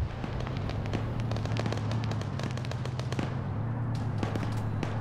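Air strike explosions on a vehicle in a military video game: a dense run of sharp cracks and bangs over a low rumbling bed, continuous for several seconds, loud and close with no voices.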